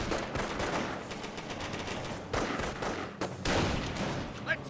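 MG42 machine gun bursts from a Company of Heroes battle, sustained rattling fire with overlapping shots and louder peaks, continuous over the whole stretch.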